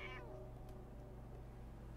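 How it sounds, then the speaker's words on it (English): In the video game Fallout 4, a cat gives a single short meow at the start, followed by a steady low in-game ambient hum with no talking. "It really is the cat"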